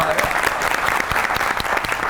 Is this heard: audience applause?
yes